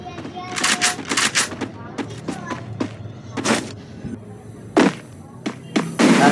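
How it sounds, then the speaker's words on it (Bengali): Bursts of gunfire from a battle royale video game, a series of sharp broadband shots in short clusters and single cracks spread across the stretch, with some background game noise underneath. "একটু ফায়ার দিলাম যদি ও আসে"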